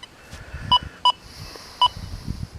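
An XP Deus 2 metal detector on the unmodified sensitive FT program gives three short, clean peck tones, two close together and a third a moment later, over a faint background hiss.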